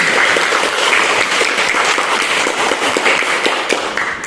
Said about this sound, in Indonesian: Oke, berikan aplaus kembali.